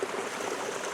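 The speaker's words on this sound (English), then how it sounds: "we've got a little cascade here" A small cascade on a river sends water pouring and splashing in a steady, broad rush, close by and continuous, with no voices over it.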